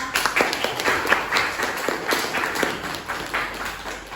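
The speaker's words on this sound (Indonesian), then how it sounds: "Tepuk tangan untuk dapat." A classroom of students claps together in a burst of applause, fairly close and lively, with brief uneven patter over a few seconds.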